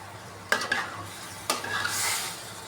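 Lentils and vegetables frying in a pot for khichuri, with two sharp stirring clanks followed by a soft hiss of sizzling, close and brief.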